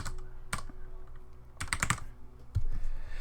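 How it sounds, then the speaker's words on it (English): Close-up typing on a computer keyboard as a deck name for the Legends of Runeterra card game is entered, with irregular key clicks that cluster into quick bursts and a louder keystroke near the end. "Okay, so I'm going to type my deck name here"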